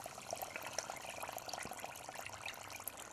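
Water runs into a bucket of stale bread for fishing groundbait, a faint bubbling, splashing fill that keeps going steadily without voices.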